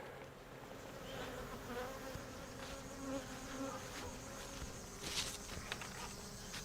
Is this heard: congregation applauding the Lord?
no